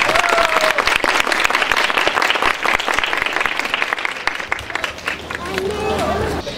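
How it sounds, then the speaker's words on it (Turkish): An audience claps steadily and loudly at a kindergarten opening ceremony in Çerkezköy, dense applause filling the room with some crowd murmur underneath. "Firdevs Çetinkaya'yı alkışlarınızla sahneye davet ediyorum."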